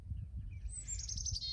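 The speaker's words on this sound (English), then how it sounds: "I love that right now there's a bird living in my tree. You probably can hear it." A bird chirps from a tree outdoors, a quick run of repeated high tweets that starts partway through and continues to the end, fairly faint over a steady low rumble.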